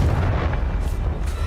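A Confringo spell blast in Hogwarts Legacy lands as a deep, booming explosion with a rumbling low-end tail that fills the short clip, with no talking.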